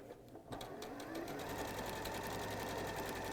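A Juki sewing machine stitches fabric for a Christmas table piece, with a rapid, steady needle hum that starts up after a brief pause and runs loud and close without talk.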